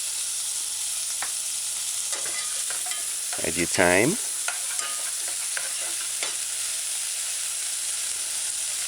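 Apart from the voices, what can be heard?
tomato frying and being stirred in a pan for broad bean stew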